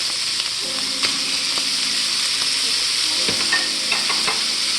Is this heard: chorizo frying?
yes